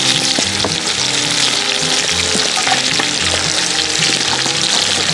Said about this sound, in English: Now I'm gonna go ahead carefully start putting in the broccoli and cauliflower.